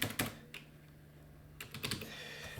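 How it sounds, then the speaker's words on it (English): A computer keyboard is typed on in short quiet bursts of keystrokes, with a pause between the clusters. "I need to type Outlier analysis."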